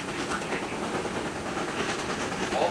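A Cass Scenic Railway train in the West Virginia mountains rolls along its tracks, giving a steady, continuous rumble and rattle of wagons at fairly close range throughout, with no talk over it.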